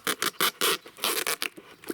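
Quick bursts of sticky tape being pulled and pressed down, several short ripping strips in a rapid uneven rhythm, close by.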